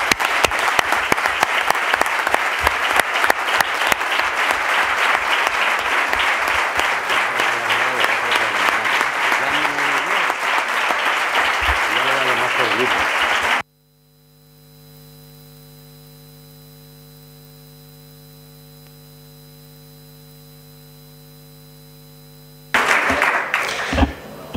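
Sustained applause fills a council chamber at the constitutive plenary session of a new town corporation, dense steady clapping for about fourteen seconds, then a low mains hum, then a short burst of clapping returns.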